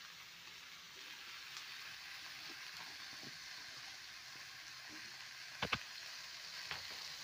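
Greens and chopped flat beans fry together in mustard oil in a wok, giving a soft, steady sizzle with a couple of brief clatters near the end, faint and close.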